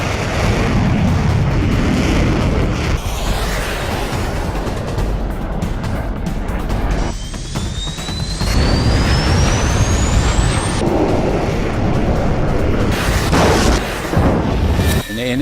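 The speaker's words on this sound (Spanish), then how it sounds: "En ese momento escucho una explosión muy fuerte." A Sidewinder missile detonates against an A-4Q attack jet during the 1982 Falklands air war: a loud, sustained roaring blast with deep rumble and a rising whistling tone through the middle.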